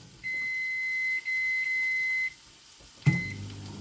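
Microwave oven being set to reheat for two minutes: a steady high electronic tone holds for about two seconds, then a short beep follows with a clunk as the oven starts humming.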